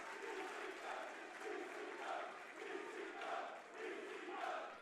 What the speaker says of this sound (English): Crowd loving every second of this, and it truly is a spectacle.